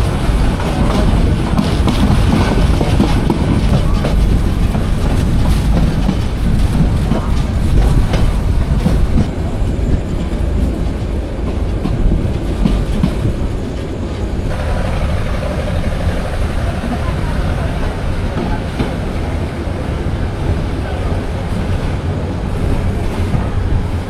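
Nasirabad Express local train running at night between Feni and Chattogram, a loud, constant rumble of wheels and carriages with rattling clatter, heard from aboard.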